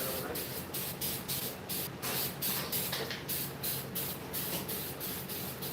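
Thick Flex Seal spray paint hisses from an aerosol can in a series of short, close bursts with brief pauses between them, applied in a workshop to build up a textured coat.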